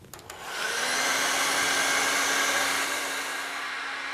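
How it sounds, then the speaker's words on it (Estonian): A heat gun or hair dryer softening paint so it can be scraped off starts with a click and spins up into a loud, steady blowing whoosh with a constant motor whine, running for several seconds. "Kui me tahame natuke lihtsamalt teha, siis proovime kuumaõhupuhurit või fööni kasutada."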